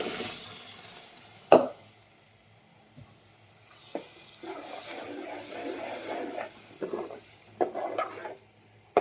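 Ground wild greens go into a spice tempering of garam masala and coriander powder and sizzle quietly in the pan, broken by sharp utensil knocks and stirring scrapes.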